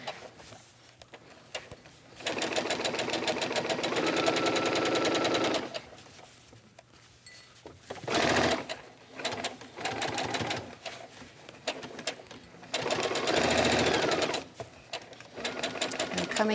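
A domestic sewing machine stitching around the neckline of a child's vest, loud rapid whirring in long runs separated by pauses and short bursts as the fabric is turned, close up.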